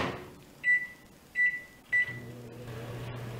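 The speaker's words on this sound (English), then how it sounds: "And now we'll put them in the microwave so that way they can melt." A microwave oven melting butter for baking, its steady low hum running after three short electronic beeps while the door and keypad click nearby, with no talking.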